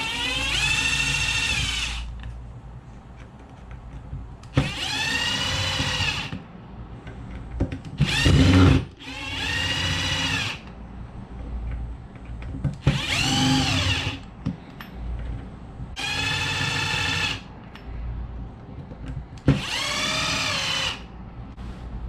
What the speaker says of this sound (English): I'm going to start taking these screws off.